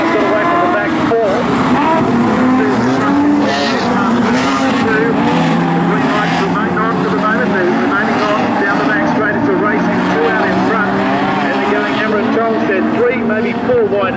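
Modified sedan race cars roar down the main straight at Charlton Raceway in an Australian title heat. A pack of engines rises and falls continuously beneath an excited commentator.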